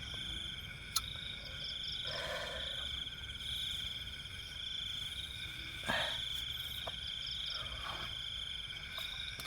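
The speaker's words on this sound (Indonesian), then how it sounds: "yang dengar suara jangkrik dan suasana malam yang penuh hening" Crickets chirping at night at a solo campsite, a steady high continuous trill with faint frog-like calls mixed in, moderately distant in a quiet night ambience with no talk.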